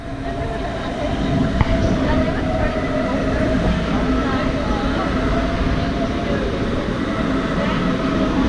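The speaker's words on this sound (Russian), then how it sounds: "добираемся городской электричкой" Steady rumble of a Munich S-Bahn suburban commuter train heard from inside while riding toward Marienplatz, a continuous low roar with faint rail clatter and a brief click, no voices.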